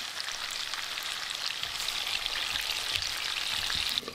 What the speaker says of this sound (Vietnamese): mình cũng chiên lửa lớn khoai môn với lại khoai lang luôn